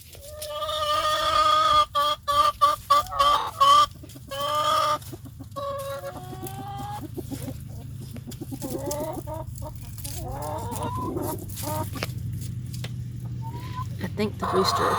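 Hens cluck and a rooster calls in short bursts early on, then quieter clucking continues beneath a person talking nearby.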